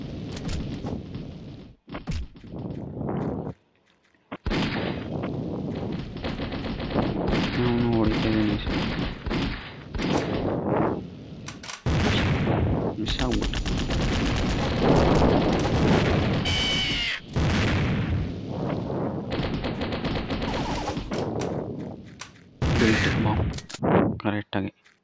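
Mini Militia mobile game gunfire crackles in bursts of shots and thuds mixed with other game sounds, with a voice talking over parts of it.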